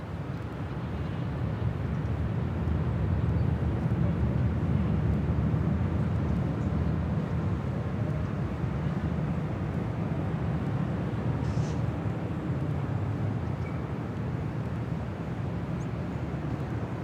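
A seven-year-old Boeing 737-900ER departing LAX for Seattle, its engines giving a sustained, dense roar that swells slightly and stays steady for the whole stretch with no talking.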